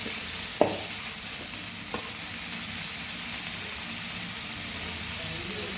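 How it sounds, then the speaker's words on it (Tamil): Onions sautéing in hot oil in a pan for kothu parotta, a steady close sizzle and frying hiss throughout with a couple of brief stirring clacks near the start. "பெரிய வெங்காயத்தை போட்டு வதக்கணுங்க. வதக்கிட்டே இருங்க பொன்னரமாக."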